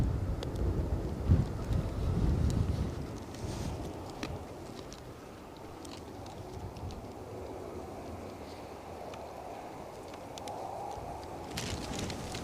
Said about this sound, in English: that wind is getting a bit whippy